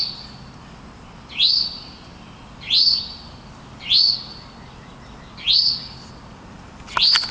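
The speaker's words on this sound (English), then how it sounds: "Hear the birdies?" Birds chirp outdoors in a steady rhythm, about five bright rising tweets spaced roughly a second apart, clear and fairly close over faint background hiss.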